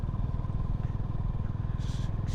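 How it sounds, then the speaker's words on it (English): Honda H'ness CB350 motorcycle cruising on a road, a steady low exhaust thrum close up over wind rush, with a brief hissing burst near the end. "exhaust note is very nice."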